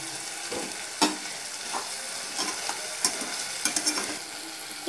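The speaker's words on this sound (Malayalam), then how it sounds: "ആ അടുപ്പിൽ വെച്ച് എണ്ണ ഒഴിച്ചിട്ട് കിഴങ്ങും അതുപോലെ തന്നെ സവാള, തക്കാളി ഇതെല്ലാം ഒന്ന് വാട്ടി എടുക്കുന്നുണ്ട്" Potato, onion and tomato sautéing in hot oil on a stove, a steady close sizzle broken by several sharp stirring scrapes and clacks of a spoon in the pan, with no talk.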